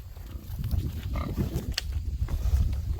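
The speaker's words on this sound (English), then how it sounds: "Are you being crazy pig this morning?" Grunts and snorts from a pig outdoors in the morning, close and fairly loud, with rustling movement and a brief squeal mixed in.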